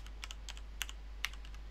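Computer keyboard typed up close while entering a terminal command: a quick run of light, crisp keystrokes with a couple of slightly harder taps, over a low steady hum.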